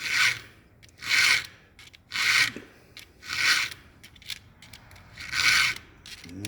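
A round file rasps across the cutters of a chainsaw chain in five or six evenly spaced strokes, crisp and close, with quiet pauses between strokes and no talking.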